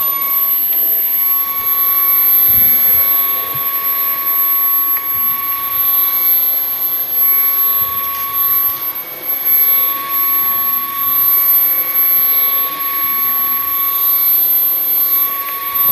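Bissell Cleanview XR Pet 300W cordless vacuum running at maximum power on a rug in a garage, a steady loud whine and airflow roar with a constant high tone, continuous throughout with no talk.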